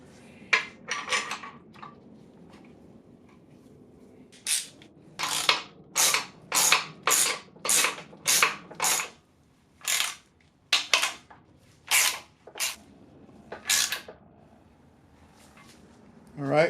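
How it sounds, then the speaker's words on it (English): Bolt being threaded into a steel thread insert in an aluminum 2008 Acura MDX engine block, a series of close, sharp ratchet clicks in regular bursts with brief pauses between. "see if our bolt goes in there correctly"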